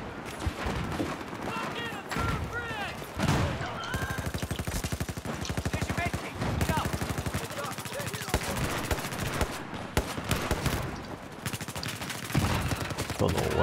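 Rapid automatic gunfire in Battlefield 4, AEK-971 rifle bursts mixed with other weapons, dense overlapping shots running throughout at steady loudness, with speech in between.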